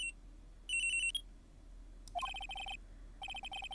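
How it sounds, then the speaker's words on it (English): A cell phone ringtone in the video game Phoenix Wright: Trials and Tribulations plays as short bright electronic tone bursts in a few separate rings over a faint background hum. "After 10:30, I received a call on my cell phone."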